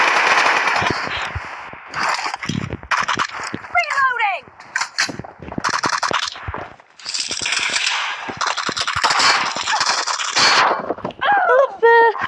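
Video game bombardment with rapid gunfire bursts, machine-gun rattles and explosions, loud and busy, with a few whistling squeals of incoming shells and occasional talk mixed in.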